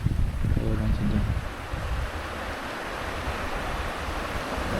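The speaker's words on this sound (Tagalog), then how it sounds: "Lakas ng hangin." Strong seaside wind roaring over the microphone at a shoreline fishing spot, a steady loud rush with surf beneath, after a brief burst of voices at the start.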